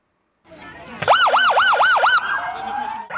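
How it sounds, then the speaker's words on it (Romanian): Police vehicle sirens sound at Tomis port during an open day, a loud close wail cycling rapidly up and down before shifting to a steadier tone. "În portul Tomis au răsunat preț de câteva ore sirenele autospecialelor de poliție."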